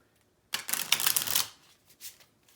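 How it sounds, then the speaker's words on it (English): Playing cards are riffle-shuffled once in a quick, crisp burst of fluttering clicks, followed by a couple of softer card taps. "So I'm going to shuffle a few times,"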